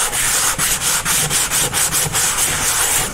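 Gentle hand sanding of a dried drywall patch of joint compound, a steady rhythmic scraping rasp with about a dozen even back-and-forth strokes, close and loud with no voices.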